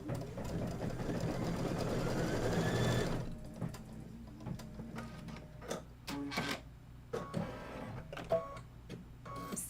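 A sewing machine stitching quilt fabric for an autumn quilt runs in a steady fast whir for about three seconds, then stops, leaving scattered clicks and handling noises of fabric being moved.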